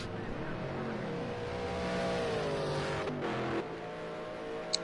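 Race cars driving in a sim racing game on the Indianapolis Motor Speedway road course, a sustained engine drone rising and falling in pitch, with a brief passing roar near the end.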